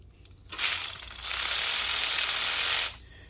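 Ratchet loosening a bolt during a Procharger intake install, a fast continuous clicking whir lasting about two seconds, loud and close with no talk.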